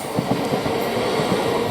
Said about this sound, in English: And that is another train, obviously.